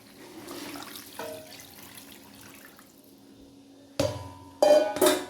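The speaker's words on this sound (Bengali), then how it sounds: "আমি এবার জল ঢেলে দেব।" Water is poured into a pot of mutton curry with potatoes, arriving in a few loud splashing bursts near the end after quieter kitchen clatter and a faint knock.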